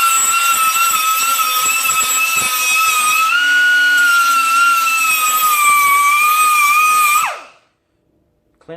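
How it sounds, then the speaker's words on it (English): An air grinder cleans up the edges of a rust repair rocker panel on a 1989 Grand Wagoneer, a loud, sustained high-pitched whine that holds for about seven seconds, then spins down and stops. "go buy yourself a nice little grinder like this, air grinder"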